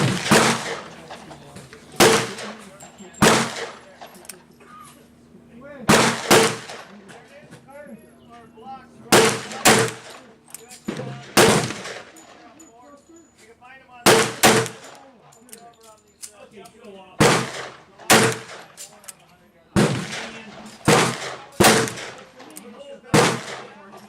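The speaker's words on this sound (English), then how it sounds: "So we'll give it another 6 shots on the bench and see what the action looks like." A .38 Special revolver firing .35 Remington bullets on a bench, with loud, widely spaced single shots ringing out one at a time across the stretch, some in quick pairs, against a quiet outdoor background.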